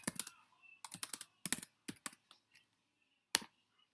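Keys clatter on a computer keyboard in short bursts of quick taps with pauses between, close and crisp, then a last lone keystroke after a brief silence.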